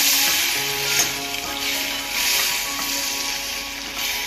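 Spice masala sizzles steadily in a hot pan for a Maharashtrian home masala, a loud continuous frying hiss with faint stirring scrapes, no voices.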